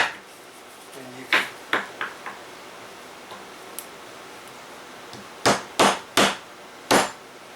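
A large knife splitting kindling wood, with sharp wooden knocks and cracks in two clusters: a few spaced strikes early, then four louder, closer hits near the end, all against a quiet background.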